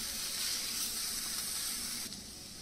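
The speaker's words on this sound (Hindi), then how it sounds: "तो कुछ सेकंड्स के लिए इस मसाले को भूनते हैं" Spice masala for a mixed vegetable jalfrezi fries in a pan with a steady, fairly faint sizzle and no talking.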